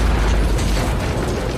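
A loud, dense explosion destroys a SWAT vehicle in a war film set in Mosul, a sustained roaring blast with crackling debris filling the whole moment before cutting off abruptly.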